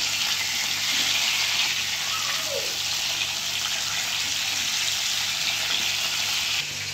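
Fish sizzling in hot oil in a wok, a steady, even hiss of frying that runs unbroken throughout, fairly loud and close.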